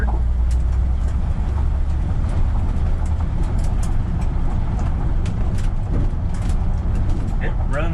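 A 1969 Ford F-250 truck with a camper on the back and a sticking throttle lugs in third gear, its engine a loud, steady low rumble with road and cab noise throughout and a voice talking over it.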